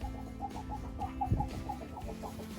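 A young hen clucks while laying an egg, giving a close run of short, evenly spaced clucks over a quiet background hum, with no talking.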